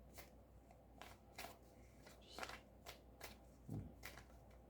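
A deck of tarot cards is shuffled close by in a quiet room, with a series of quick riffling bursts in an irregular rhythm.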